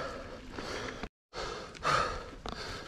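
A mountain biker on a forest trail breathing heavily, with close, loud exhales and gasps in bursts, a brief silent gap partway through, and no speech.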